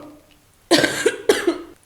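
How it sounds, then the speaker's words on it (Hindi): Two loud, harsh coughs in close succession from a woman with a sore throat, close to the microphone, after a moment of quiet. "मुझे बहुत ज़्यादा खांसी आ रही है"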